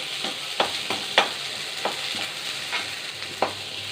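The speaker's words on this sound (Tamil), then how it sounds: "தக்காளி போட்டு நல்லா வதக்கலாம்." Tomatoes sautéing in a pan for mutton kuzhambu masala give a continuous close sizzle, broken by regular scraping strokes of a spoon about every half second, with no talking.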